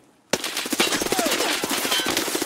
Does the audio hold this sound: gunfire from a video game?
yes